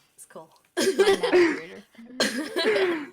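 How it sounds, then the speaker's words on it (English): A person coughs in a few harsh, raspy bursts, close and loud, between short stretches of speech in a relaxed indoor setting. "Ugh, I keep coughing."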